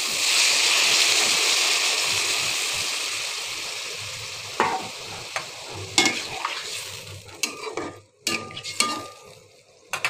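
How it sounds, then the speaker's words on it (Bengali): A cauliflower and rohu fish curry sizzles and bubbles in a pan as broth goes in, a steady frying hiss easing into simmering with scattered clinks and stirring scrapes. "ঝোল দিয়ে দেবো।"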